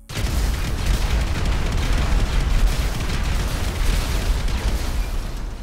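Twenty sticky bombs detonating at once in GTA 5 produce a continuous loud, rumbling roar of overlapping explosions that fills the whole stretch with dense, heavy booms.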